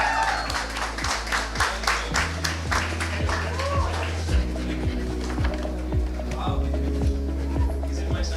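Crowd applause at an outdoor youth gathering in a street setting, sustained, dense clapping mixed with voices, a steady hum and rhythmic low thumps.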